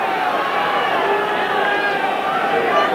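A big crowd at a Widnes versus Wigan rugby league championship match in 1990–91, a dense, steady roar and murmur filling the background with no breaks.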